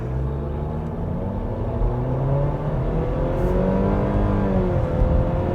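A 2024 Nissan Sentra's 149-horsepower engine pulling hard in Drive Sport mode, a steady droning whine rising slowly and evenly in pitch as revs build, heard from inside the cabin with no talk.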